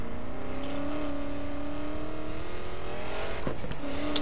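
A car driving in the Watch Dogs 2 video game, its engine droning steadily and shifting pitch as it accelerates, loud and continuous, with a brief tire or road noise near the end.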